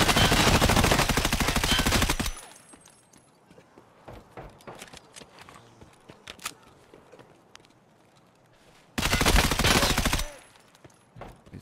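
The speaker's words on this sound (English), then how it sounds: "More shooting at me." Bursts of video game gunfire from Escape From Tarkov, loud rapid automatic volleys at the start and again near the end, with scattered faint shots and small clicks in between.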